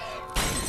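Glass shatters in a supermarket during a monster attack in a film. A sudden loud crash breaks in about halfway through, followed by scattered tinkling debris.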